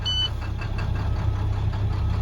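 A truck engine turns over and settles into a steady, low rumbling idle close by, with a brief high whine at the very start.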